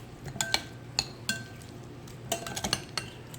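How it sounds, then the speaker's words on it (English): Seasoned chicken wings being mixed in a bowl, with light clinks and taps of utensil against dish scattered irregularly over a soft, quiet background, and no talking. "I'm going to continue to mix these wings up"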